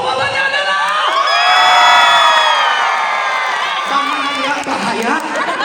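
Circus audience cheering, whooping and shouting loudly with a continuous dense roar of voices, children's shrieks and some clapping, swelling in the middle before easing slightly toward the end.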